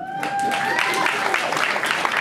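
Audience clapping at a stand-up comedy show, a short burst of fairly loud, even applause lasting about two seconds, with a brief high-pitched whistle or cheer at the start.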